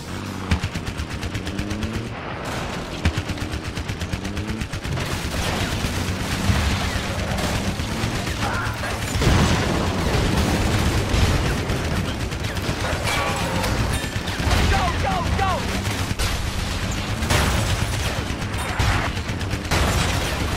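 Sustained machine gun fire from the Renegade Ops video game, loud rapid bursts running continuously alongside booming explosions and dense battle noise.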